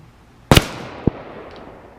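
A .45 handgun fires two shots at a 50-yard range: a loud sharp report followed about half a second later by a second, shorter crack, then fading ambient air.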